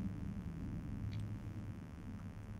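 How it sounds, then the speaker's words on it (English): A jet aircraft passes outside, heard as a faint, steady low rumble from a distance, with no voices over it. "I hear a jet outside."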